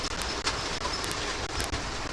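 A model tram running on a model railway in a home train room, with a steady rolling rumble and faint clicking from the track, continuous and close throughout.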